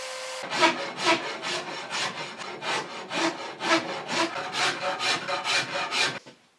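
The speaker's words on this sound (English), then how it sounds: "maybe doing some work with the rasp, various other types of sander" A rasp files the wooden handle of a fiberglass-backed laminated flat bow in about fourteen rhythmic, scraping back-and-forth strokes, close and fairly loud, with no talking.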